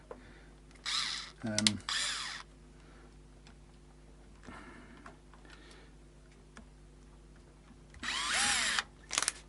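A power drill on low torque drives guitar tuner screws into a Fender Powerhouse Strat headstock, short close whirring bursts separated by pauses, with faint ticking and quiet talk between bursts.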